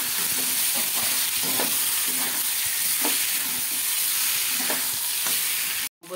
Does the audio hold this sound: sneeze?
no